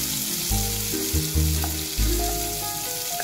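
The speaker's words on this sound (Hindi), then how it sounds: "अब हम इसमें डालेंगे कटे हुए प्याज, अच्छे से मिक्स करें" Chopped onions are tipped into a pan of frying cumin and stirred, a close crackling sizzle with a few heavier thumps and scrapes from mixing, no voices heard.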